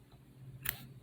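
A single quick snip of scissors cutting crochet yarn, a faint, brief close click amid quiet room tone.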